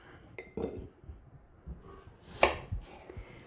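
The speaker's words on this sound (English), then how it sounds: "I'm just going to chop them into fairly thin slices and put them right into my jar" Apples being cut into thin slices with a knife, several irregular chops and knocks on a board with light clinks of a glass jar, one sharper clink standing out, close and fairly quiet with no voices.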